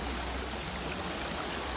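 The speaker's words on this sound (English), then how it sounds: "So the riffle is behind me. I have the water coming down." Water rushes steadily over a rocky-bottomed stream riffle, a continuous close broadband wash with no voices.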